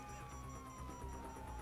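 Wailing police sirens in the Grand Theft Auto V video game, a steady rising and falling tone sitting over a dense, continuous bed of game noise.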